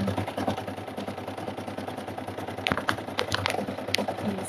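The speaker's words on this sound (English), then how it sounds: "we are ready to stitch the word coffee" An embroidery machine stitches the word coffee onto a kitchen towel, giving a fast, steady mechanical whir. Several sharp clicks and taps come through near the end.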